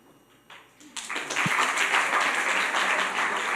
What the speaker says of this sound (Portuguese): Vocês são ótimos a bater palmas.